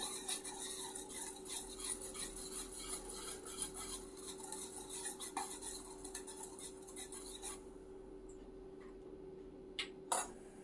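Batter with baking soda for Gujarati batata vada is mixed with a utensil in a bowl, giving soft, quiet, continuous stirring and light clinks, with a few sharper taps near the end.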